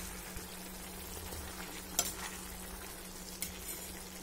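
Pumpkin palya is stirred with jaggery in a hot pan, giving a soft, steady sizzle with a few light scrapes and knocks from the spoon, and no talking.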